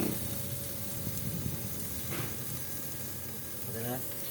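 Welding under a truck in a mechanic's workshop gives a continuous crackling hiss, steady and moderately loud throughout, with a few brief bursts and background shop noise.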